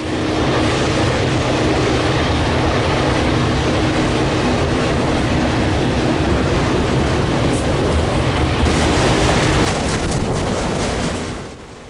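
A BC Rail freight train carrying flat cars loaded with new Caterpillar vehicles rolls past close by, a loud, continuous rumble and rattle of wheels and cars that holds steady and eases slightly at the end.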